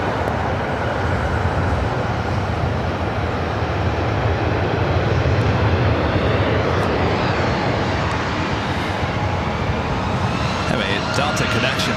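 SkyWest CRJ 700ER regional jet operating as Delta Connection at LAX, bound for Austin, Texas, with a steady, loud broadband engine roar filling the whole stretch under airport radio chatter.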